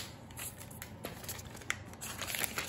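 Crinkly plastic wrap peeled off an Apple 11-inch iPad Pro, a close run of soft crackles and rustles with a few sharper crinkles, steady and fairly quiet.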